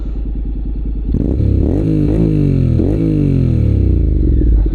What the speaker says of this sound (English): So this one's got like a aftermarket exhaust on.